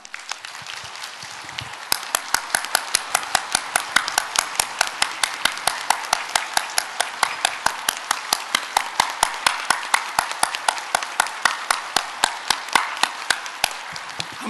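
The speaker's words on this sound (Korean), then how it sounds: "우리 장자 박수 한번 합니다" A church congregation claps in unison, a steady rhythmic beat of sharp synchronized claps, close and loud, continuing for many beats after a brief quiet start.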